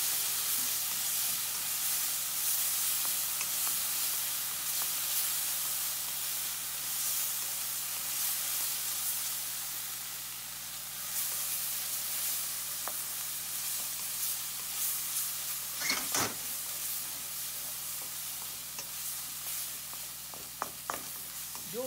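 Steady close sizzling and hissing of butterbur-shoot miso frying in an iron frying pan over raised heat, with occasional scraping stirs and clicks, no voices.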